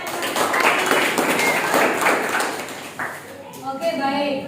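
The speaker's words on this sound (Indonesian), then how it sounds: "terima kasih tepuk tangan" Classroom of students clapping during a lesson on globalisation, a few seconds of brisk applause that tapers off into a teacher speaking.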